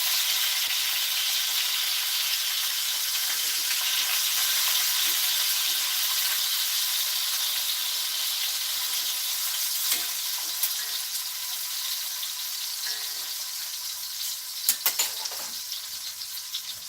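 Breakfast sausage patties sizzle steadily in a frying pan, a loud continuous hissing crackle with occasional sharper pops and brief clatters of a utensil near the end, no voices.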